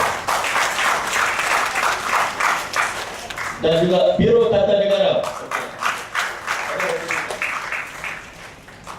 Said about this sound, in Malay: Tepukan gemuruh kepada penangguh